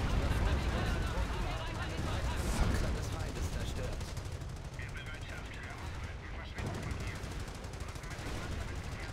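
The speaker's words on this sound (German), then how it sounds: "Es schießen zwei MGs gerade auf mich." Two machine guns in the video game Company of Heroes rattle in continuous bursts, dense and fairly loud, with someone talking over the gunfire.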